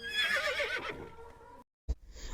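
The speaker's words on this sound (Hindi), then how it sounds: "घोड़े की थकी हुई हनहनाहट ने रात की खामोशी में इर्तिआश पैदा कर दिया" A tired horse neighs at night, a loud wavering whinny that trails off into a brief silence, followed by a single short thump and faint low rumble.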